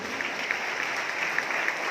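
Loud audience applause from a crowd, a dense, steady wash of clapping that holds evenly for about two seconds with no break.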